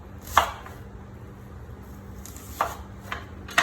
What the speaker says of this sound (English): for the onions, I'm just gonna quarter the onion